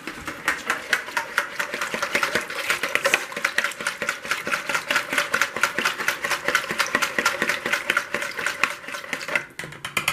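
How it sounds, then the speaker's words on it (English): Rapid, steady whisking of a salad dressing seasoned with black pepper for a Brussels sprouts, apple and bacon salad, a close, continuous clicking whisk against a bowl running almost without pause. "And we're just going to whisk all this together."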